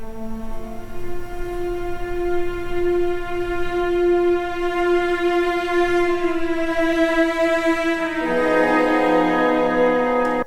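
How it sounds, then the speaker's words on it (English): An orchestra holds the Tristan chord in long sustained tones, swelling and shifting to a brighter, fuller harmony near the end, with no talking. "That chord right there, that is the Tristan chord."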